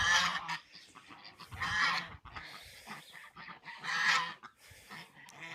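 Several geese honk in loud bursts close by, calls overlapping in uneven clusters with brief quiet gaps between them.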